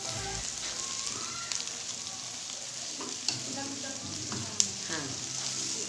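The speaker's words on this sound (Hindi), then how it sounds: "और बंद गोभी। इनको हम फ्राई कर लेंगे।" Cabbage and capsicum fry in a hot pan for egg fried rice, making a bright steady sizzle punctuated by a few sharp stirring clinks.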